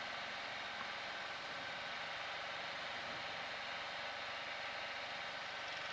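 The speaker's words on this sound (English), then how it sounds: "Engine speeds climbing" A light aircraft engine runs at takeoff power during the takeoff run, a steady, dense roar that fills the whole stretch without a break, heard from inside the cabin and with no speech over it.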